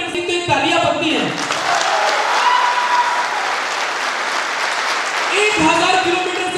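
A large audience at an event bursts into sustained, dense applause that fills the space for several seconds, with talk heard just before it starts and again as it fades.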